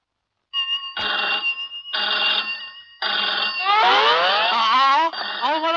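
An old-style telephone bell rings in loud, close bursts with short pauses between them in a hospital office, the last rings running longer and warbling.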